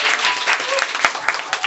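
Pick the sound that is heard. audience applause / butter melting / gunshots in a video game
audience applause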